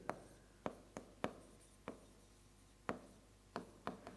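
Writing by hand during a physics lesson on light and reflection: a series of separate sharp taps and short scratches, irregularly spaced and close, with no talk.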